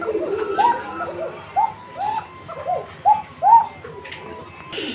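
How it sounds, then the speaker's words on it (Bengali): A pair of Bashiraj pigeons coo close by, a run of five or six soft, throaty calls in an uneven rhythm with short pauses between them. "আমরা এই মুহূর্তে দেখতে পাচ্ছি কবুতর কবুতর এই জোড়াটি আপনারা দেখেন"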